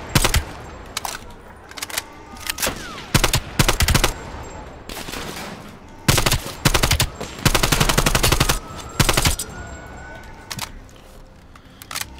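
Bursts of automatic gunfire and single shots crack through a Call of Duty Cold War firefight, loud and close in irregular clusters with short pauses, a voice faintly mixed in.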